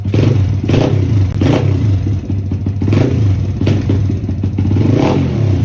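An SSR YX140 pit bike engine idles loudly nearby and is blipped up quick several times, each rev rising and bogging briefly before dropping back to a steady rumbling idle, with no talking.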